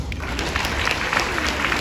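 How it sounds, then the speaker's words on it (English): An audience at an evening symposium panel discussion applauds, a brief burst of crowded clapping with some voices mixed in. "Can we have a huge round of applause"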